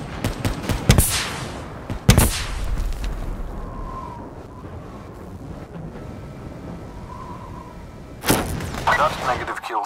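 Sentry turret gunfire in Call of Duty: Black Ops III, with short loud bursts of shots at the start and again near the end, separated by a quieter stretch of ambient game noise.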